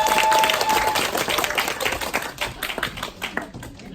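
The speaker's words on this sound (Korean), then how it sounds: "큰 박수 부탁드리겠습니다." Dense audience applause at a business leadership school gathering, loud and steady at first, then thinning into more distinct individual claps as it fades toward the end.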